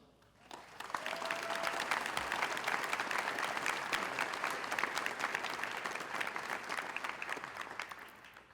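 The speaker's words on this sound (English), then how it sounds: "I want you all to give them a round of applause" Audience applause at a class pinning ceremony, the crowd clapping for honored students; the clapping swells quickly to a steady, dense roar, holds, then begins to fade near the end.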